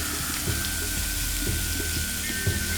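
Sliced onions, about 400 grams cut into half-rings, fry in a pan with a loud, steady sizzle and occasional soft stirring knocks.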